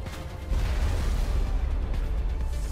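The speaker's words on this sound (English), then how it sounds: "just got wiped out by that explosion." A sustained, loud blast in the Mass Effect video game, a heavy rumbling boom that stays dense and roaring for the whole stretch after a sharper onset, with no talk over it.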